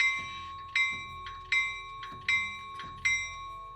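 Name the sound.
bell sound of a Rapido F59PH model locomotive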